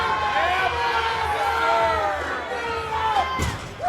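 Large powerlifting meet crowd, about a thousand people, shouting and cheering loudly and continuously for a lifter on his opening squat attempt at a national championship, voices and whoops swelling throughout with a sharp burst near the end.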